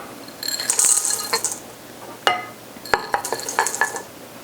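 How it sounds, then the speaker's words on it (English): Chocolate chips, semi-sweet and white, are stirred into marshmallow cookie dough in a bowl, giving scattered clinks and scraping rattles of a utensil against the bowl in short bursts, close and without talk. "We'll just mix them together so the chocolate chips can become incorporated in our cookie dough."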